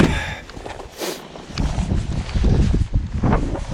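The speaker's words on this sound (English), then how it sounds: "Freaking wind." Gusty wind buffets the microphone outdoors at a launch spot, a loud rumbling roar that rises and falls in bursts throughout, with no voices heard.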